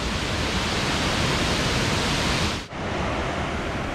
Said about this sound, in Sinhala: ඒ වැටෙන്නේ බෝමුරු ඇලි 10 මේ පළවෙනි දියැල්ල